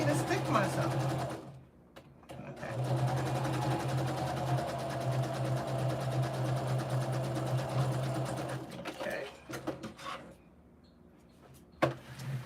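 A sewing machine stitches a Christmas stocking around its curves, giving a steady close motor whir with a rapid needle rhythm that runs for several seconds, pauses briefly, then stops near the end, where a voice is heard faintly.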